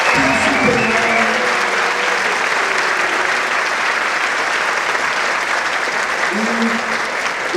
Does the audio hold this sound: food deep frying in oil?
no